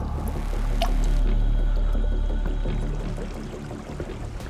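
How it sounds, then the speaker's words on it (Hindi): Water flowing through a narrow cave passage, a continuous low gurgling and sloshing rush with dripping, close and enveloping, no voices. "बहते पानी की ये आवाज कभी भी मौत बनकर बरस सकती थी।"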